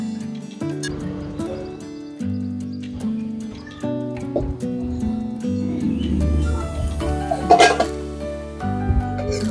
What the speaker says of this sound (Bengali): এখন একটা প্লেটে নামিয়ে নিচ্ছি।